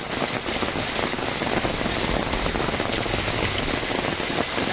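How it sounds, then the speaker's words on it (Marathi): First monsoon rain pours steadily over a Konkan village in Kumbhavade, Rajapur, Ratnagiri, a dense, even hiss of drops striking surfaces close by, unbroken for the whole stretch with no voices. "पहिलोच पावसाचा आनंद घेता"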